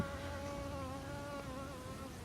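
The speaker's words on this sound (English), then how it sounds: "we've got a little bee feeding on it already" A small bee buzzes steadily at a garden water station filled with pebbles, a close, continuous drone with a wavering pitch and no talking over it.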